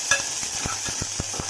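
Onions and garlic sauté in hot oil in a pan while mutton soup is being made, a steady soft sizzle under evenly spaced stirring knocks from a spoon, with no one talking.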